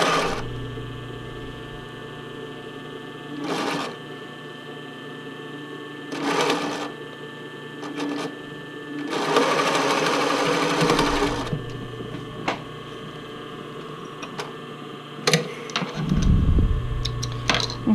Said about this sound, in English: I'm going to line up the edge of my elastic with the edge of my power net, and I'm just going to sew around it.